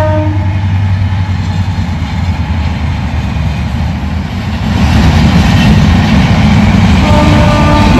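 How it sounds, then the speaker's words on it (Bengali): A train rumbles past along a rail line through rural village farmland on a winter morning, a loud continuous low roar with steady wheel clatter that swells louder in the second half, with no voices. "ট্রেন যাচ্ছে,"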